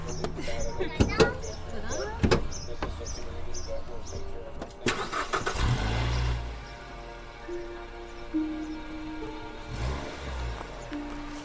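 A car engine cranks and starts, then settles into a steady idle, heard up close with a soft rumble and some interior rattles.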